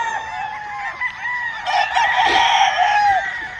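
Stuart yellow-legged chicken pullets on a farm clucking, with a crow rising over the flock, close and fairly loud against a steady background of calls.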